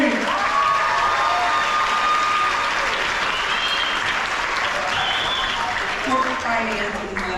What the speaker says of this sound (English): clap it up for the Queen